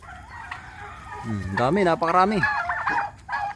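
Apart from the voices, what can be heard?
turkeys calling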